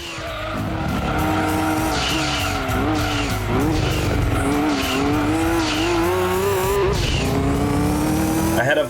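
Race cars in Gran Turismo 2 during a Grand Touring Car Trophy race: loud, continuous engine whine rising and falling through gear shifts, with tire squeal and skidding woven throughout and no talk.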